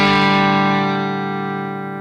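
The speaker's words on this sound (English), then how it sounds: "So I'm just going to engage the booster, and I've got the control up halfway." A single electric guitar chord rings out through a plexi-style amp with a Carl Martin treble booster set halfway, bright and sustained, slowly fading over two seconds.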